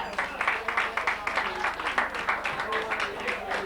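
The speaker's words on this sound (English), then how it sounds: "that alone deserves a big round of applause" Moderate audience applause at a local gathering honouring a former Cavan minor footballer, steady rhythmic clapping through the clip with a faint hum underneath.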